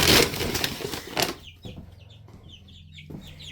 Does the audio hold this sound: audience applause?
no